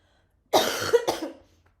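A single harsh cough from a lingering illness bursts out close by, followed by a short second hack, then silence.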